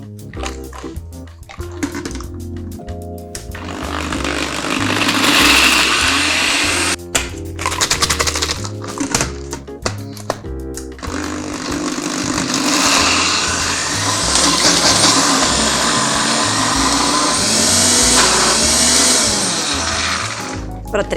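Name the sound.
blender grinding whole-grain biscuits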